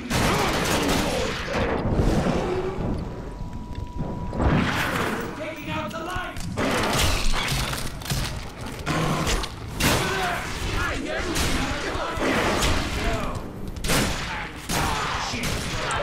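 Gunfire from The Darkness II, a first-person shooter, crackling in dense repeated bursts and heavy thuds across the whole stretch, loud and near, with a voice speaking over parts of it.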